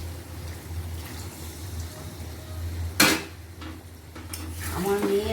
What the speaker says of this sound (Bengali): এবার আমি মশলা যেটা দিয়ে কষিয়ে রেখেছিলাম মাংসটা, ওই জলটা দিয়ে দিচ্ছি একটু।